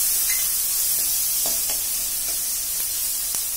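Onions, mint and tomato sautéing in hot oil for veg salna, a steady loud sizzle and hiss with a few soft stirring scrapes, close up and without talk.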